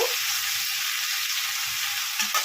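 Potato and pointed gourd fry in a pan with a steady, close hiss of sizzling oil that holds evenly for a couple of seconds, with faint stirring knocks and no talking.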